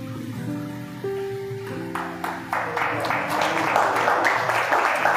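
Audience clapping builds from scattered claps into steady applause during a church sermon, over a held musical tone, rising in density and loudness toward the end.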